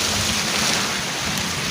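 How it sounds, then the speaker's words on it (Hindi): Steady, heavy rain falls close by, a dense continuous hiss of drops drumming on surfaces with no pauses and no voices. "बारिश बहुत तंग करती है जब भी आती है ना।"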